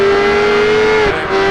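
A car engine in the racing game Project Gotham Racing 4 holds a loud, steady high-pitched drone as the throttle is opened, with a brief dip near the end, close and alone.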